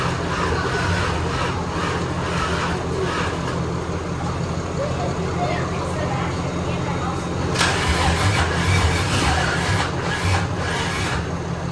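A BMW E36 motor cranks and fires, running loud and rough with a steady mid-pitched drone that swells near the end. Voices can be heard over the engine.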